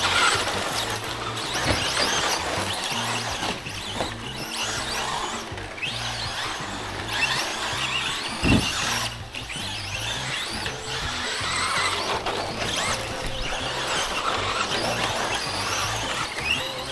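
A Traxxas 2WD Slash RC car with a Hobbywing system runs continuously with constant throttle and steering changes, its motor whining and tires scrabbling and squealing over a dense, busy noise floor for the full stretch.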